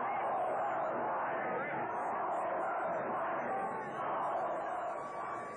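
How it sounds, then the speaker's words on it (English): A large crowd of demonstrators chants in unison, a thick blended roar of voices with a rhythmic swell, heard at a distance as a continuous mass rather than individual words. "the demonstrators began chanting, "The whole world is watching."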